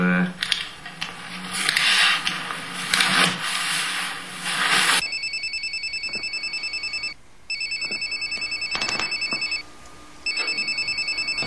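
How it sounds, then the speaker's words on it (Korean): A home telephone rings in repeated electronic bursts with short gaps between them, clear and close, following a stretch of rustling and handling noise. "전화 안 받고 뭐해?"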